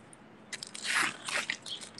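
Someone bites into a butter roll close up, giving a soft crunchy bite followed by a few moist chewing and crunching sounds over about a second and a half, with no talking.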